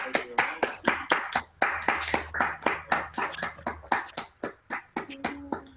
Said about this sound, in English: please, and a round of applause